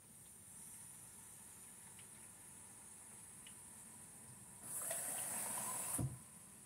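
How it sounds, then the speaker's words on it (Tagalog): Water hisses and gushes briefly as it is poured into a dried-out steamer while kamote suman is being cooked. The pour is fairly quiet and lasts about a second and a half, and a steady background hiss runs underneath. "Nilalagyan ko pa ng tubig ang aking steamer na natuyuan."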